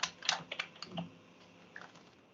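Typing on a computer keyboard: a quick burst of close, faint key clicks at the start, then a few scattered taps trailing off into quiet.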